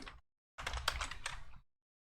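A computer keyboard is typed on in a quiet room: a short burst of close, faint key clicks, a pause, then a denser run of clicking that stops.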